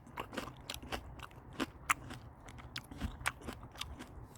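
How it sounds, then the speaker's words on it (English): A person bites and chews home-grown green melon up close, with crisp, juicy crunches and moist smacking in a steady uneven rhythm, quiet and with no speech. "I think you can hear the sound when I eat this melon."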